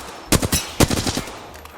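Gunfire from a video game firefight, rapid bursts of automatic shots in two clusters, fairly close and loud with no talking.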